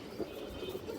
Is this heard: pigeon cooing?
yes